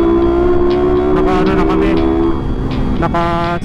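Steady road noise from a Honda-style R150fi motorcycle with a remapped ECU, cruising on the road between Manila and Baguio, a loud continuous engine drone with wind, plus a brief horn-like tone near the end.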